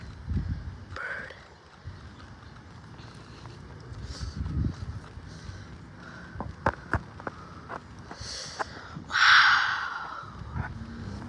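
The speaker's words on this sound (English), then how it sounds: "Bird." Wild birds call outdoors in a windy spot, with harsh crow-like caws and a loud squawk near the end, scattered sharp clicks in between, and faint voices at times.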